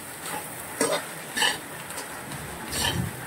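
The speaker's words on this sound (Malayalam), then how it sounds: "ഇത് ഇടയ്ക്കൊന്ന് ഇളക്കി കൊടുക്കണം, അല്ലെങ്കിൽ അടി പിടിക്കും" Clam meat fries in a pan under a constant sizzle while a spoon stirs it, with about three distinct scraping strokes spread evenly. The sound is close, and no one speaks.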